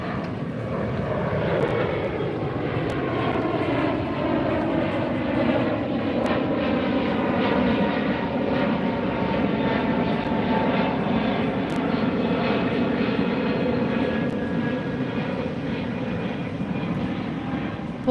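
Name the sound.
Delta jet airliner flying past at LAX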